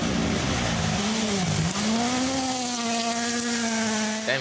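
Rally car engine at Rally Latvia 2024, a loud straining engine whose pitch dips then climbs and holds as the car accelerates, with some tire squeal, close and dominant.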